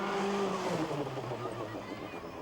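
Ari Vatanen's number 7 Peugeot rally car on the 1985 Safari Rally, its engine note rising and falling as it passes, a throaty rasp with a falling pitch over a short burst.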